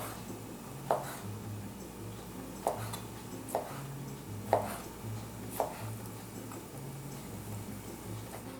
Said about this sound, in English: Once they are softened, I slice them.